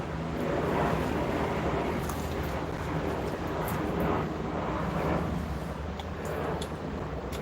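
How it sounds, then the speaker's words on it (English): A police helicopter drones overhead at night in a city neighborhood, a steady broad rotor and engine roar heard from a distance with some wind buffeting on the microphone. "That's the police helicopter."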